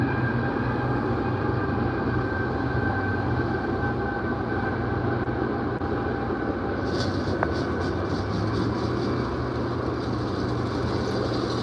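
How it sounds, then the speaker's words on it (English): Low, steady rumble of a train passing in the distance, faint and continuous with a rattling texture, no voices. "do you guys hear the train?"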